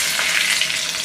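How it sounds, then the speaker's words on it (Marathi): Mustard seeds, cumin and curry leaves hit hot oil in a pan for a tempering, giving a loud, steady, close-up sizzle with crackling over a short stretch. "मध्ये थोडंसं तेल, मध्ये थोडीशी मोहरी, त्यामध्येच थोडंसं जिरे, कढीपत्ता"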